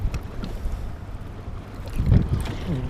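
Gusty wind blows across Lake Norman while fishing from a boat, a steady low rumble with buffeting against the microphone that swells to a stronger gust near the end.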